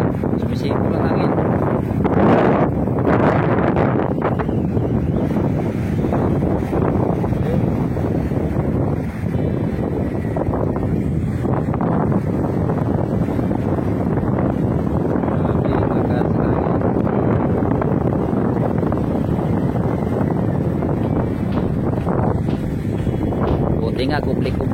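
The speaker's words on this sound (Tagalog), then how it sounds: "Sumisipol ang hangin." Strong wind blows hard around a father's resting house, producing a loud, continuous roar with gusts and wind buffeting on the microphone, while a person talks over it.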